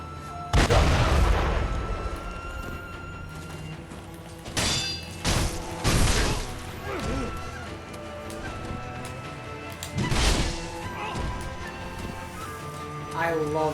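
Cannoneers firing cannons in Sekiro: Shadows Die Twice, several heavy booms and crashing impacts spaced irregularly across the stretch, each followed by a decaying rumble, over continuous game ambience.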